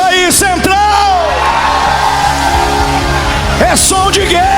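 A church congregation shouting a cry of joy during a spiritual battle service: a loud sustained crowd roar of whoops and yells, with individual shouts rising over the mass of voices throughout.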